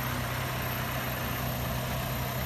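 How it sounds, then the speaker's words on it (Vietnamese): A Daewoo Lanos car engine idles quietly with a steady, even low hum, continuous and unchanging across the short stretch with no talk. "máy móc nổ cũng rất là thì thầm anh chị ha"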